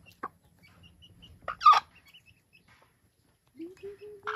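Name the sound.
chicken clucking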